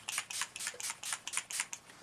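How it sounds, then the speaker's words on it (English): An all-nighter setting spray mists a face in a rapid series of about a dozen short, soft, close pumps, each a brief airy hiss. "I'm going to spray my face with my all-nighter."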